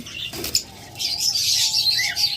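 Lovebirds in a cage give a few short, bright chirps and a brief rustle, close by and fairly clear over a quiet background.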